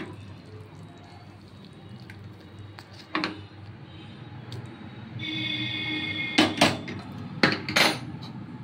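Bengali pomfret fish jhal curry poured out of a metal pan: scattered clinks and knocks of the pan and utensils, with a brief wet pouring hiss between them, up close.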